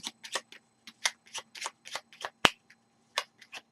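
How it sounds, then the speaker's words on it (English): A deck of Kingdom Death: Monster game cards being shuffled by hand, a series of crisp riffling bursts and snaps in an irregular rhythm, close and clear with no talk. "And then you need to shuffle all of these."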